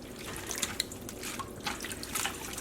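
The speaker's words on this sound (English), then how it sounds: "let's see what we get when we start rinsing out the excess dye from these cotton yarns." Tap water runs and splashes while excess dye is rinsed from cotton yarn in a sink, a steady close gushing stream with irregular spattering bursts and drips.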